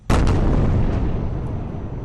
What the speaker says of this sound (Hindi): धमाके सुनिए।